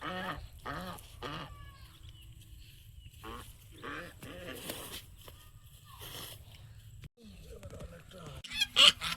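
Ducks honk in a village yard, loud bursts scattered between stretches of people talking nearby, with a sharper cluster of calls near the end.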